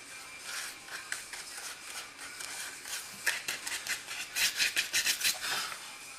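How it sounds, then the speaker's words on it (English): A finger rubs glue onto a paper model tab, giving soft, dry rasping strokes that become louder and more rhythmic toward the end, close up and with no talk. "I'm actually going to even rub it with my finger a little bit."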